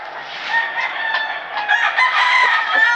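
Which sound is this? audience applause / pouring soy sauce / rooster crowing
rooster crowing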